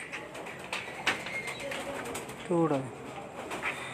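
A blue pigeon coos once in a short rolling burst amid background chatter and other bird calls, with people talking nearby.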